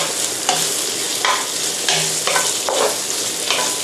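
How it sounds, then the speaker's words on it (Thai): Rice noodles stir-fry in a hot pan with bacon and egg for Thai guay tieaw kua, giving a close, continuous sizzle broken by repeated scraping strokes of a spatula. "ผัดไปเรื่อยๆครับให้หอม"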